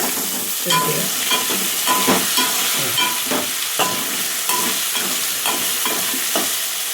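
A curry base for chicken, potato and chana dal curry frying in a pan, with a steady sizzle and rhythmic scraping strokes of a spoon roughly every half second, close-up and fairly loud.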